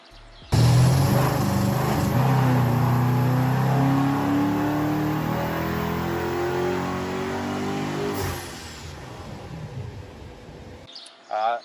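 A BMW 550i's stock engine revs up loudly and holds a steady high drone before easing off, close by, with no voices.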